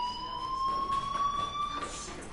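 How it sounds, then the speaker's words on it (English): A fire alarm rings in the video game Life is Strange as a sustained, piercing electronic tone with a slight pitch drift. It sounds moderately distant and holds steady with no voices. "do you hear that fire alarm?"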